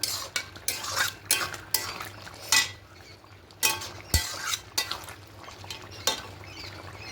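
A curry of potato, pointed gourd and soybean chunks with fried spices is stirred in a metal pot, with repeated scraping strokes and spoon clinks in an uneven rhythm, close and fairly loud, over a faint sizzle and no talking.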